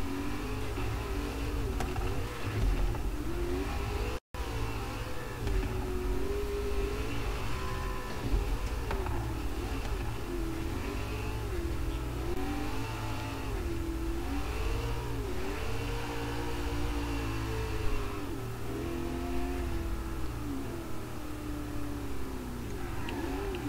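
Car engine in Forza Horizon 3 droning steadily while driving, pitch wavering with throttle, loud and continuous with one brief dropout.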